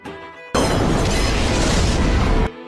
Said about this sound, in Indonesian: tangki itu meledak dengan keras.